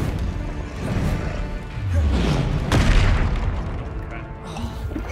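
Expelliarmus disarming-spell effects in a Hogwarts Legacy duel: several heavy booming impacts and crashes land close and loud over a dense clash of combat noise, with one especially sharp hit partway through.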